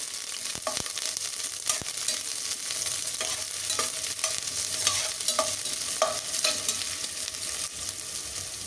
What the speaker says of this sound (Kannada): ಈರುಳ್ಳಿ ಟೊಮೊಟೊ ಹಾಕಿ ಇದನ್ನ ಮೊದಲು ಕೂಗಿಸ್ಕೊಳ್ಬೇಕು